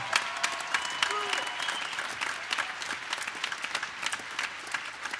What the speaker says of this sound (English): you can applaud for that, yeah